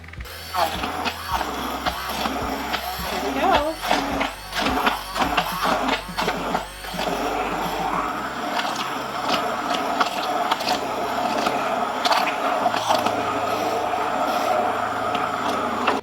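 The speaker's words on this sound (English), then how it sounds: "So we're gonna take our immersion blender. I'm just gonna start it on low." An immersion blender set on low purées cooked unsweetened applesauce in a pot, giving a steady whirring motor drone with rhythmic churning and clicking, close and fairly loud, with a brief spoken remark over it.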